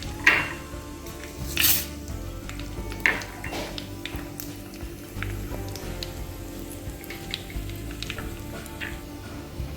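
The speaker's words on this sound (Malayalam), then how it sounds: "ഞാൻ അതിലേക്ക് കടുകും വറ്റൽമുളകും ഇട്ട് നമുക്ക് താളിക്കാം" Mustard seeds and dried red chillies temper in hot oil in a pan, a quiet steady sizzle broken by a few sharp pops and light clinks of utensils against the pan.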